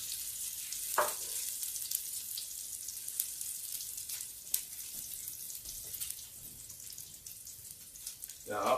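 Garlic and onion sauté in a pan with a faint, steady sizzle throughout, broken by a few soft clinks and stirring knocks, quiet and close.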